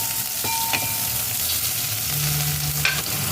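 Chopped onions sizzle steadily in a hot pan for a Filipino fish dish, a loud, even frying hiss with a few faint clinks of stirring.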